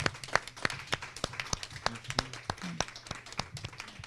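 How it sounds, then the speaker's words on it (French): Scattered hand claps from a small group at a general assembly meeting, sparse and uneven, fairly quiet and heard from a slight distance. "c'est avec un applaudissement qu'on va le féliciter de sa présence"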